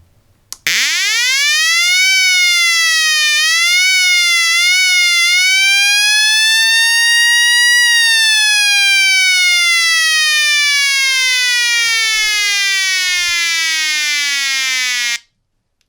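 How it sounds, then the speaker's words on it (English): A loud homemade electronic siren wails continuously, its pitch rising and warbling a few times before sweeping slowly downward, then cutting off abruptly. "How to make a great and very powerful siren."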